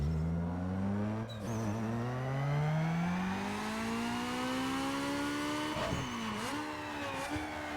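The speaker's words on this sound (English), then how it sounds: "let's quickly do a dyno pull and let me show you guys how much power this car has" A Mitsubishi Lancer Evo VIII 2.0L inline-four in Need for Speed Underground winds up through a long, rising dyno rev, pitch climbing steadily before a brief shift dip and settling near the top, loud and close with no talk.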